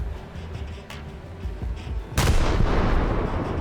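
Warship guns fire during a War Thunder naval battle: dull, distant booms roll under a steady hum, then a sudden loud salvo erupts and leaves a sustained rumble.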